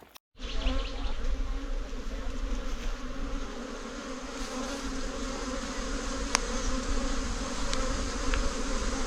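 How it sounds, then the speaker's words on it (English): A swarm of bees buzzes steadily beside a hiking trail in the Silver Peak Wilderness of Big Sur. The dense, continuous drone is loud and close, with no voices. "We slowly made our way around the swarming bees and hoped we were not going to get stung"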